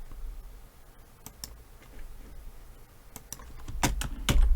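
Scattered sharp computer mouse clicks, a few single and a few in quick pairs, sound close and crisp over a quiet background, growing slightly busier toward the end.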